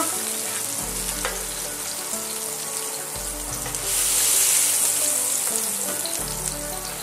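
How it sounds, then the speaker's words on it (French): A thick beef steak (pavé de boeuf) sizzles loudly and steadily on a hot cooking plate, the hiss swelling briefly midway, with faint kitchen clatter and no talking. "On pose la viande sur la plaque."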